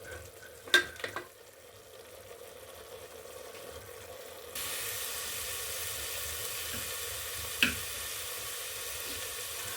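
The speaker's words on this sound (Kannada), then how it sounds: "ಚೆನ್ನಾಗಿ ಹಸಿ ವಾಸನೆ ಹೋಗೋವರೆಗೂ ಸ್ವಲ್ಪ ಬಾಡಿಸ್ಬೇಕು" Ground masala paste frying in a pan on a home stove, a steady soft sizzle that grows louder midway, with a couple of brief utensil knocks and stirring sounds, no talking.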